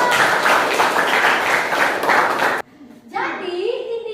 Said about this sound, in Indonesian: tepuk tangan buat Elsa.